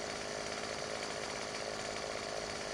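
A chainsaw trimming limbs off felled trees in Farming Simulator 17 drones continuously at steady, moderate volume, a dense buzzing roar with no pauses.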